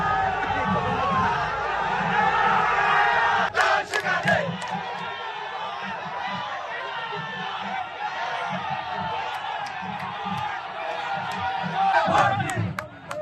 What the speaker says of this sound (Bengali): জয় বাংলা স্লোগান দিয়ে